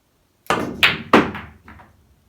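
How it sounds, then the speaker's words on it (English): A pool break shot from the kitchen in a Drunken Cowboy billiards game, with the cue ball striking the 3 ball: three sharp, close clacks in quick succession, then a couple of fainter ball knocks fading out. "I'm gonna make the break shot again from the kitchen. Have to hit the 3 ball on the break shot."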